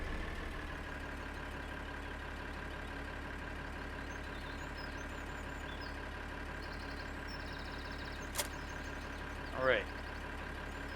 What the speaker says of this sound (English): So we press Y to preheat the engine. It's preheated, we can start the engine.